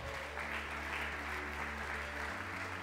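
Audience applause at the E-Commerce Awards 2014 prize ceremony, a dense, steady burst of clapping from a large hall crowd, sustained throughout without talk.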